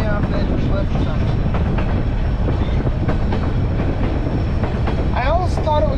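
The White Pass train rolls along the rails after the 2021 landslide, a steady loud rumble with clickety-clack beats and a brief high squeal of wheels near the end, while people talk over it.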